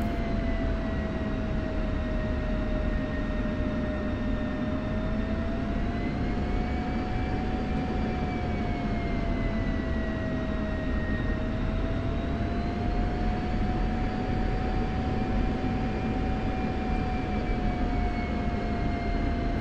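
F-16C Viper jet taxiing in the DCS World flight simulator, a steady loud engine roar with a high whining tone that slowly rises and falls in pitch, heard alone throughout.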